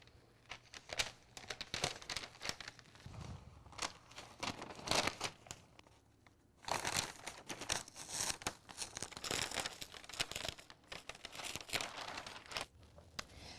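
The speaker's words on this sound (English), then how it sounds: "I'm just gonna carefully remove the butcher's paper from the top of our letters" Butcher's paper is peeled off heat-pressed HTV vinyl letters, making close, irregular crinkling and tearing rustles in bursts, with a short quieter pause midway before a denser run of crackly peeling.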